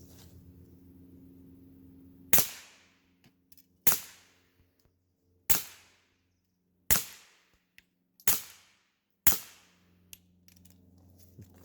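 A suppressed pistol fires six sharp, loud, close shots at uneven intervals of about one to one and a half seconds, each crack decaying quickly over a low background hum.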